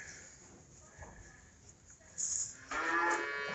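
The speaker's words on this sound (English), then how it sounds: "Look, there's moo-moos." Cattle mooing on a farm near where hay bales are being put away, a low call swelling in the second half and growing louder toward the end, with faint background noise before it.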